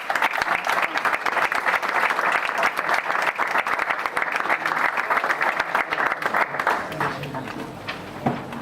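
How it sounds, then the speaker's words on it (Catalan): An audience at a school music event applauds a young guitar and bass duo, sustained dense clapping that holds steady for several seconds before thinning out toward the end. "Un fort aplaudiment per ells."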